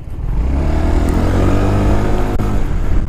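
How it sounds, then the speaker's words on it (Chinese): A SYM FNX125 scooter idles close by during a test of its idle start-stop system, a loud, steady engine hum with a faint clatter and no speech. "那接着我要来试一下它的怠速起步系统。"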